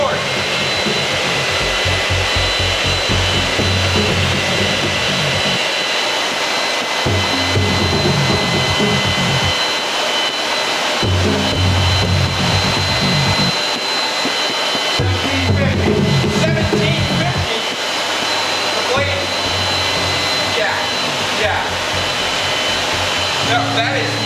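A roaring burner or blower heats a Damascus steel sword blade for heat treatment, a loud continuous rushing that throbs and surges unevenly throughout, with voices talking faintly under it.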